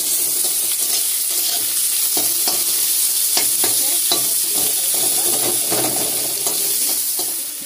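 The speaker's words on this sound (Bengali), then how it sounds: "টমেটো মুড়ে দেওয়া হয়ে গেল, খানিকক্ষণ ধরে এটা নাড়তে হবে।" Crab curry with tomato being stirred in a frying pan, a steady loud sizzle throughout with scraping and clinking of the spoon against the pan in irregular strokes; no talking.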